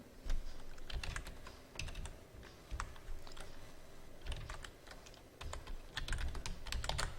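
Fingers tap steadily on a computer keyboard while typing a sheet name in Excel, quick irregular clicks in short runs, close and fairly quiet, with no voices.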